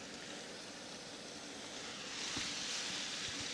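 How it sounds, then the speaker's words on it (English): Heavy rain pours down in a steady, dense hiss that holds even and unbroken throughout, swelling slightly louder toward the end. "Today is a pretty rainy day. Extreme rain."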